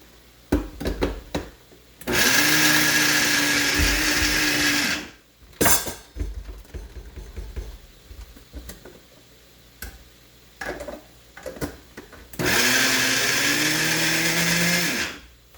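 Masala ground in a mixer grinder run in pulse mode, two loud whirring bursts of a few seconds each with the motor spinning up and cutting off, separated by clicks, taps and handling noise.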